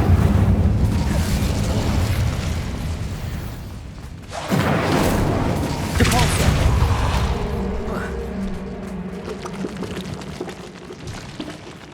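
The Incendio fire spell is cast in Hogwarts Legacy, a loud whooshing burst of roaring flame that swells suddenly and crackles before fading, set against dense game ambience and rumble.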